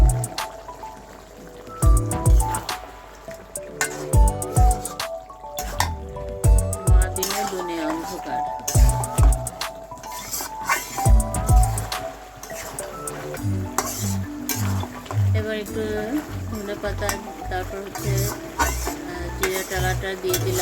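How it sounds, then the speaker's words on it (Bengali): A metal spoon stirs spices in a cooking pan while making an egg and brinjal dish, giving irregular scraping clinks and knocks against the pan over a soft sizzling background, close and moderately loud. "আবার একটু নাড়াচাড়া করে মিশিয়ে নিচ্ছি যাতে কোনো মশলা লেগে না থাকে বা দলা পেকে না থাকে"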